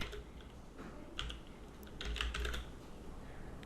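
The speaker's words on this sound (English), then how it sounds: "Type in the name, for example, wardrobe." Someone types a name on a computer keyboard, producing a short run of soft, quick key taps over a low background hum, close and without talk.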